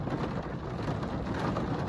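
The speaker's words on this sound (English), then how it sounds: "It's been raining for a while." Steady rain falls on a windy day, a dense, even hiss of drops that fills the whole stretch without a break.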